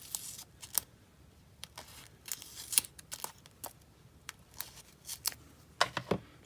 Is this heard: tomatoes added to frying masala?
no